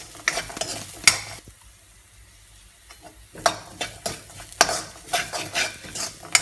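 Golden onions sizzle in a pan with turmeric and asafoetida for kande pohe, a spoon scraping and clacking in quick irregular strokes, with a brief quieter pause midway before the stirring resumes.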